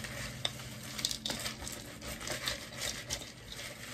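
A spoon stirs hurricane popcorn in a pan, producing soft scraping and light clinking with small pattering rustles in an irregular rhythm, close and fairly quiet.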